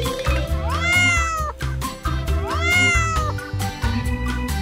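A cat meows twice, each a long rising-and-falling cry, close and clear over a steady background of music, with no talking.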